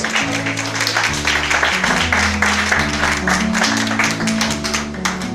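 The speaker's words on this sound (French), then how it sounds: "Clap for God." A church congregation claps in steady rhythm for God, the dense clapping running continuously alongside organ-like sustained chords and a lively beat, fairly loud throughout.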